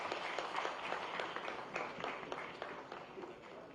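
Audience clapping at a government function in Gandhinagar as officials are welcomed: a dense, steady patter of many hands, fairly faint and distant, lasting throughout without a clear start or finish.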